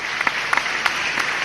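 Live audience applause at a Hindi kavi sammelan poetry recital, a steady wash of many hands clapping with a few sharper claps popping out, continuous and fairly close, no talking over it.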